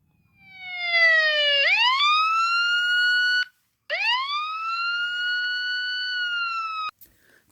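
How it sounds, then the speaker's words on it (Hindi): A siren wails in rising and falling harmonic sweeps, loud and close, cutting off briefly midway before resuming, then stopping. "ये वॉइस थी एक सायरन की, एक बजते हुए सायरन की"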